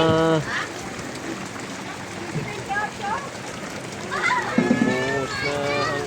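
Heavy rain pours down steadily in a broad hiss while people talk over it nearby.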